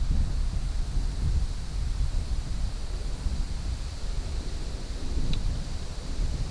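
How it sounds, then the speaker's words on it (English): Wind buffets a GoPro microphone at Stillwater Reservoir, New York, a constant loud low rumble and broadband hiss that rolls on steadily with no voices. "No rain so far, it's just windy, so I got to use GoPro audio here"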